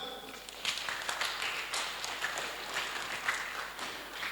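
Audience applause in a French-language Sunday children's church class, a steady broadband clapping wash that keeps going without a break for several seconds at moderate loudness.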